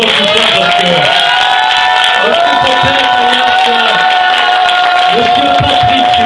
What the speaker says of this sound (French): Je vais l'applaudir franchement 30 ans plus tard